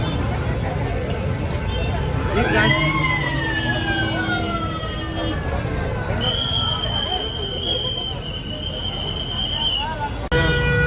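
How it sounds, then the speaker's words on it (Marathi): A fire engine siren wails loudly as another fire brigade arrives at a blaze in front of a fish market, its rising, sustained tone cutting over crowd chatter and voices nearby, with a second high siren tone joining partway. "दुसरी एक फायर ब्रिगेड आली आहे"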